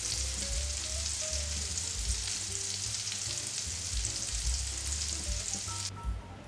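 Steady, loud sizzling of zucchini and minced meat cutlets frying in a hot pan, a continuous crackle with occasional light clinks, no voices.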